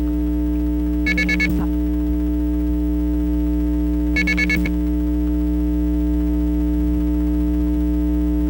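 Two short bursts of red box tones beep into a payphone, a few seconds apart over a constant loud electrical hum on the line.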